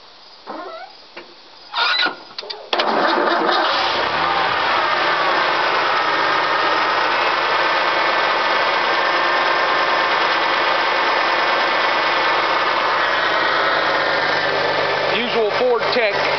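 Ford F-250 fitted with a Cherry Bomb exhaust, welded from 2.5 into 2 3/4 inch pipe: a few clicks and a starter crank, then the engine catches and settles into a loud, steady, throaty idle close by.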